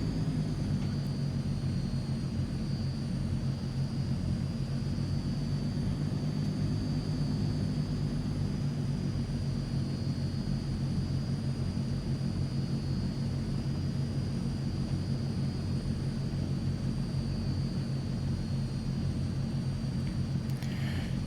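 Transall C-160 twin-engine turboprop transport in Microsoft Flight Simulator, waiting at the runway before throttle-up, gives a steady, loud low engine drone with an even rumble that holds unchanged throughout, with no voices.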